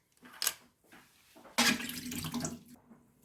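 Hands splashing in cold water filled in a kitchen sink while preparing cherry-filled cottage cheese patties, with a short slosh, a pause, then a longer louder burst of splashing near the microphone, no talk.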